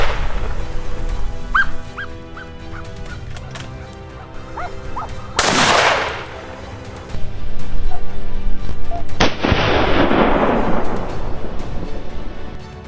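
Rifle shots during a wild boar hunt: two sharp, loud cracks several seconds apart, each with a broad rolling tail, with faint bird calls and a quiet outdoor background between them.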